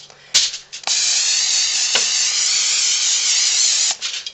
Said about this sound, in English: I'll just apply a little bit of cooking spray for safety's sake.